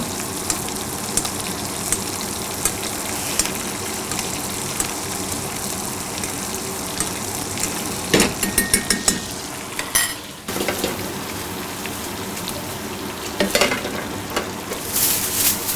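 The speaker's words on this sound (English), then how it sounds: "Baste the steak again" Venison steak sizzles steadily in a hot pan as it is basted, a continuous frying hiss with clinks of a spoon and pan handling breaking through near the end.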